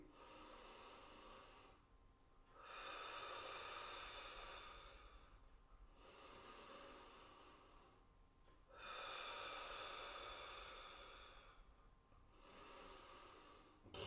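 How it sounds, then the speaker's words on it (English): Slow, deliberate breaths during a Pilates exercise, each long airy inhale or exhale swelling and fading in turn, close and fairly quiet with brief pauses between. "One more time, breathing out."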